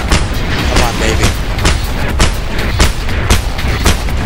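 Rapid gunfire in the Just Cause 2 multiplayer game, a dense run of sharp booming shots repeating roughly every quarter second at steady loudness throughout.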